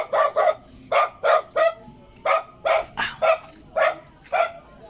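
A dog barks repeatedly outdoors, about a dozen sharp mid-pitched barks in quick pairs and singles, fairly close and clear.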